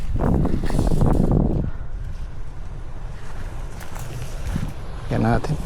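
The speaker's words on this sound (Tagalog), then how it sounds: "Wow, ito yung pinapalo ng hangin, yung bungad eh." Gusting wind beats against a house entrance, a rushing roar that eases midway and swells again, with a person speaking briefly at the start and end.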